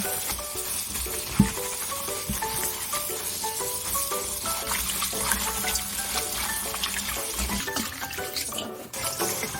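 Green onions being washed in a basin of water, with continuous splashing, swishing and dripping as hands rinse them, close and fairly loud without pause and no talking.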